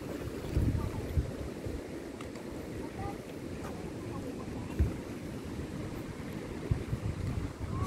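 Ocean waves wash steadily along the rocky shore of Heping Island, Taiwan, with wind buffeting the microphone and a few louder surges breaking through the constant rush.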